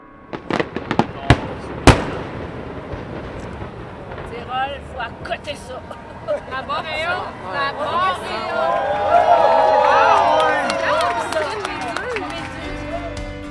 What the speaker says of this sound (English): we headed back to the port in Kingston to watch the fireworks for Canada Day